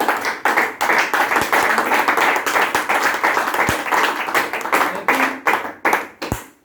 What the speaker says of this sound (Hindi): इस जबरदस्त सिस्टम के लिए एक बार जोरदार ताली हो जाए।